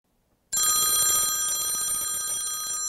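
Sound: telephone ringing

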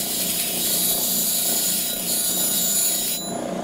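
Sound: grinder with CBN wheel removing teeth from band saw blade

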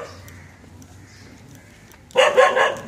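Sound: dog barking

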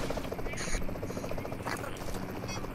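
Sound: helicopter in the video game Payload

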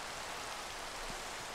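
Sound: rain falling in a video game farm

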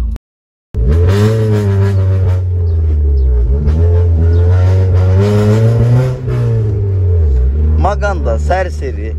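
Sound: Honda car engine revving, sounding like a Formula 1 car

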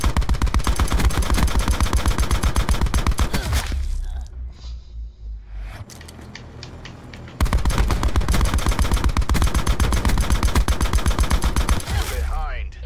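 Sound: gunfire shooting at a target in Black Ops video game

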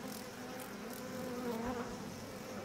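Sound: locust swarm buzzing in a video game

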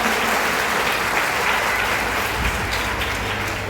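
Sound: audience applause

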